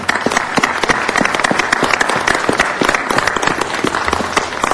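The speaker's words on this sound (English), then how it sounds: "Let's give a round of applause," A round of applause at a city council meeting honoring Guatemalan Day, with dense, loud clapping from the gathered crowd holding steady and unbroken for about five seconds.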